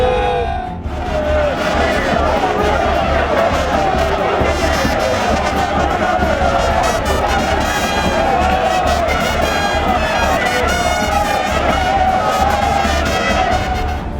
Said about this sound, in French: Envahi par des foules nombreuses venues de différents coins de la capitale